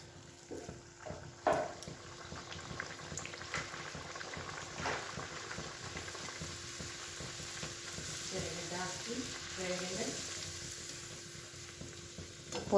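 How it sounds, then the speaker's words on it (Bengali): Pea-filled kachori frying in hot oil, a continuous bubbling sizzle with occasional clinks and stirring, steady and close throughout. "আমি কচুরিগুলো প্রায় ভাজা হয়েই এসছে"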